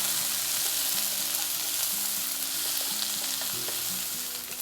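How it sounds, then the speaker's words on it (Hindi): Salted peanuts sizzle and fry in a pan as they are stirred into a paneer kung pao, giving a steady loud hiss with faint scraping movement throughout. "10 से 15 पीस सॉल्टेड पीनट डाल देंगे और थोड़ा इसे भी चला लेंगे"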